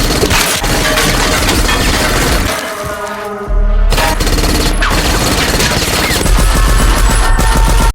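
Submachine gun fire in a movie action scene, a loud dense burst of rapid shots with crashing impacts and debris, briefly dropping out before the barrage resumes at full force.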